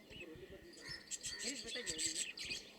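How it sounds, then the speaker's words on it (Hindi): Budgerigars at a large cow shelter give rapid, overlapping high chirps and twitters throughout, with low voices murmuring underneath. "हाँ, बजरीगर चिड़िया।"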